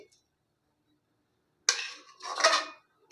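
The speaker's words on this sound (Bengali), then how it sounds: "আরেকটা থালা আমি দেব।" While mango leather is being made, a plate is set down with a bright ceramic clink. A second, longer rattle of dishware follows in an otherwise quiet room.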